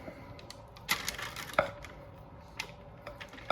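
Orange fudge mixture for creamsicle fudge being scooped into a lined pan, soft scraping and sticky thuds with a few sharper knocks at irregular intervals over a steady low background.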